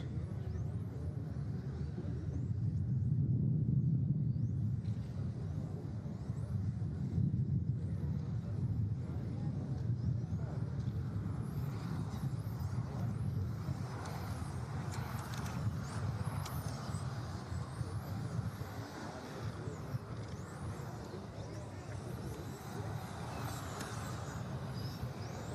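RC race cars released onto an outdoor track at a European RD2 championship round in Aigen, Austria, producing a dense, steady motor whine and rumble that continues throughout with a loud announcer's voice over it.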